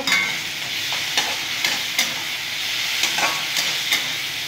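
A paste of garlic, ginger, dried and green chili fries in a pan with a steady sizzle. Periodic scraping strokes of stirring recur roughly every second.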